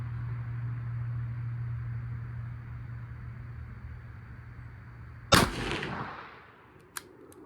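A single sharp rifle shot from a .358 Winchester fitted with a Monstrum Banshee 2-10x30 scope cracks loudly outdoors after steady background hum, followed by a brief decaying echo and a smaller click-like report about a second and a half later.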